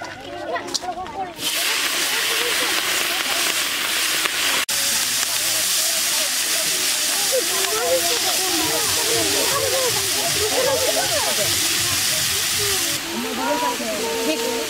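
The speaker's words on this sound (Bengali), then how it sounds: "তেলটা গরম হয়ে গেছে, এবার চিংড়ি মাছটা দিয়ে দিচ্ছি।" Prawns hit hot oil and erupt into a loud, continuous sizzling hiss that holds steady for a long stretch while frying for a village-style mochar ghonto with coconut.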